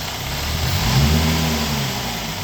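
A Jaguar F-Type's engine runs close by with a steady low rumble and a slight swell in revs midway, no voices present.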